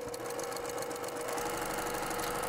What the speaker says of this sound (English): I'm gonna use some cotton thread. We're just gonna sew all the way through here.